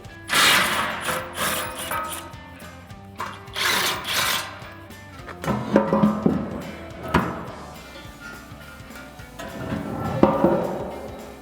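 Ratchet work on 18mm bolts holding the winch plate of a 2021-2026 Ford Bronco, heard as bursts of rapid mechanical clicking and metallic tool noise separated by pauses, close and fairly loud.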